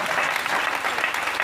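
A church congregation applauding during a Friday evening testimony service, a dense, steady burst of clapping from many hands filling the room, with a few voices faintly mixed in.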